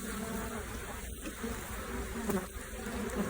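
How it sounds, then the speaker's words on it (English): Honey bees buzz in a dense, steady drone at an opened hive box full of honey, with individual bees passing close now and then. "Bees on them."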